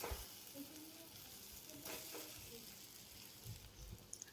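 Turmeric and green chili paste sautéing with mashed potatoes for potato chili bhaji, a faint steady frying hiss with occasional soft stirring scrapes, quiet and close without speech.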